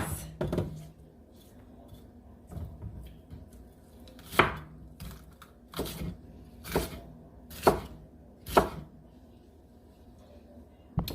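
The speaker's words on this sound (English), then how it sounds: "So I cut up all the peppers and the onion." Knife chops peppers and onion on a cutting board, spaced irregular sharp thwacks growing steadier, close up in a quiet kitchen with faint background noise.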